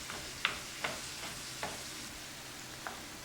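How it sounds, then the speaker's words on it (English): Ground hamburger frying in a pan while it is broken into small pieces for a meat and veggie calzone: a soft, steady sizzle with several sharp utensil scrapes and taps spaced through it. "What I'm doing now is just breaking up my hamburg so it's not so large."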